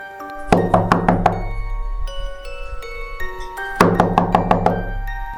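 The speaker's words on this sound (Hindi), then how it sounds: "सुबह सुबह घर के दरवाजे के ऊपर खटखटाहट होती है" Someone raps on a house door early in the morning: two quick series of about four or five sharp knocks, separated by a pause, over a steady musical drone.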